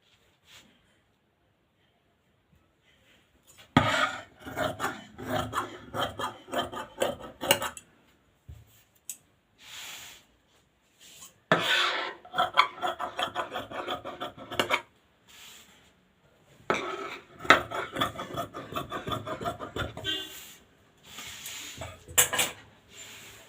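Scissors snipping through fabric while cutting out a lining top, with bursts of close crisp cutting and handling noise separated by short pauses.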